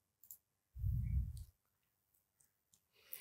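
A computer mouse clicks a few times, faint and close, with a louder low thump in between and quiet pauses around the clicks.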